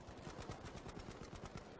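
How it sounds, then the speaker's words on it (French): Rapid automatic gunfire in Battlefield V, a fast even stream of sharp shots firing about ten per second for two seconds, heard quietly at a distance. "Ça tire là-bas."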